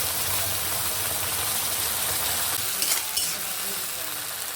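Ground ridge gourd paste sizzles in a pan with browned onions, a continuous close frying hiss with a brief louder crackle burst near the end, no talking.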